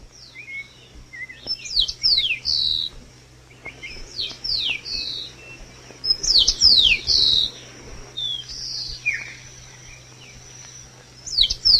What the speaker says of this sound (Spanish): En un jardín de cojines, como campanas cantaban los pájaros.